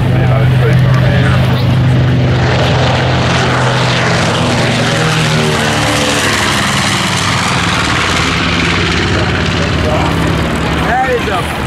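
Several B-25 bombers, US Army Air Forces propeller aircraft, roar loudly and steadily as they take off, their engine drone continuous and close, with people faintly talking in the background.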